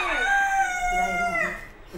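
A rooster crows once, close and loud: a drawn-out, falling call that lasts about a second and a half.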